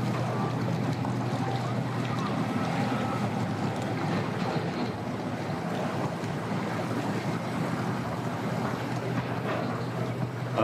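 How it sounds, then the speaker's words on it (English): A new boat running on the water near the shore, a steady broadband rush of engine and water with wind noise, continuous for the whole stretch. "When he's trying out his new boat."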